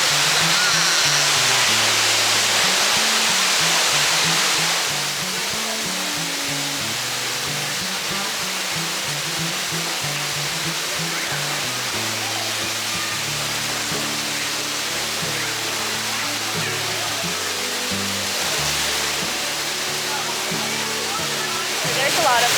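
A waterfall roars steadily nearby, a constant rushing wash, with faint voices murmuring underneath at times.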